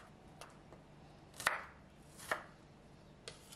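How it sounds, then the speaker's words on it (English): A kitchen knife cuts peeled shallots on a board in a quiet room. A few faint taps are followed by two distinct, sharper chops about a second apart, then one light tap near the end. "Repeat with cutting 80 grams of peeled shallots."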